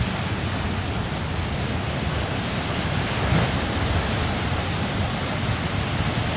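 Ocean waves surging at Sarangan beach in Gunung Kidul, a continuous loud roaring wash of surf with wind buffeting the microphone, swelling slightly midway, with no voices.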